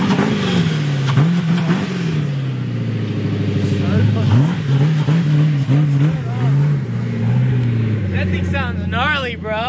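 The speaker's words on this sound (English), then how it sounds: "If it doesn't start, we try to bump start it." A car with an LS V8 engine, like the one in a Corvette, catches after a bump start and pulls away, its engine note rising and falling through revs up close, loud and continuous, with a voice briefly heard.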